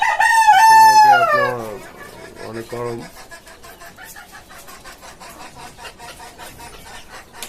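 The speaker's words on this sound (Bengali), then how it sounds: "দেশি মুরগি আপনার এই ডিম ডিম ছেড়ে ঘুরতেছে" Native chickens call loudly on a poultry farm on a hot day, with a rooster-like crow up front followed by softer clucking and chatter, while someone talks over part of it.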